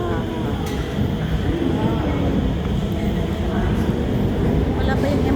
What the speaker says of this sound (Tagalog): Paalis na yung ating MRT sa kabila.